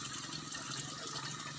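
Water flows from a tank in a steady, continuous gushing rush, close and unbroken, with no voices over it.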